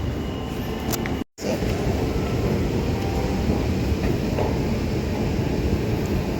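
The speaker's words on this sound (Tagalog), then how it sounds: "Dito na ako sa may train." Steady loud rumble and hiss inside a moving urban metro train car, continuous roar with a brief momentary dropout near the start, no voices.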